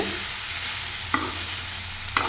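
Ivy gourd pieces coated with spices and fried in a pan, a dense, steady sizzle close by, broken by two sharp utensil scrapes while they are stirred.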